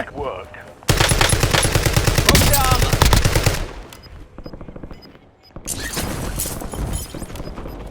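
Rapid automatic gunfire in the video game Warzone, loud and close, in long sustained bursts with a brief lull midway before firing resumes, with other game effects around it.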